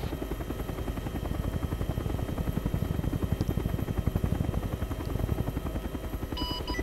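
Chinook twin-rotor transport helicopter in flight in the video game ArmA 3, a loud, steady rhythmic rotor thump with engine roar, close and continuous throughout, no voices.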